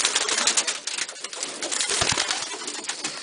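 Pigeons coo steadily in a loft aviary, a dense layer of soft, overlapping calls from many birds nearby, with a few faint wing flutters mixed in.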